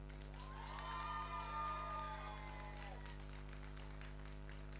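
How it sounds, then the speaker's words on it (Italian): At a cosplay contest show during an Italian comics convention, the crowd breaks into applause and cheers on cue. Clapping is moderately distant, with shrill whoops and voices rising over a steady electrical hum, swelling and then settling. "al mio tre parte l'applauso"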